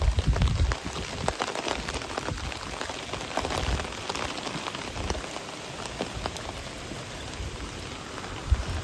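Heavy downpour with strong gusting wind beside a stream swollen with rainwater, a dense, steady hiss of rain on surfaces filling the whole stretch, close and continuous with no voices.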